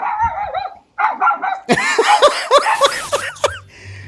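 A pit bull barks and yelps in a run of sharp, loud bursts, some bunched close together, with a brief low whimper near the end.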